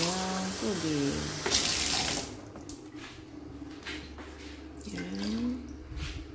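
Tap water runs into a cooking pot as it is filled for steaming sweet potatoes and eggs, a steady splashing stream under soft kitchen noise, with a brief voice and clatter near the start.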